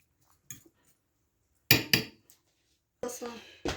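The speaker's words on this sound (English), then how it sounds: "Just give that a nice mix." Potato, egg and onions being mixed in a baking dish, a few separate clinks and scrapes of a utensil against the dish, short and close, with silence in between.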